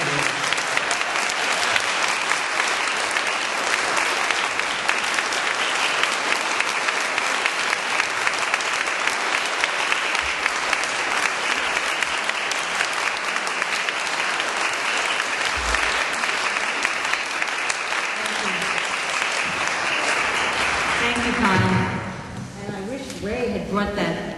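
Sustained loud audience applause for a speaker at a 9/11 Truth talk in New York, dense clapping from a crowd filling the room for about twenty seconds before dying down as a voice begins.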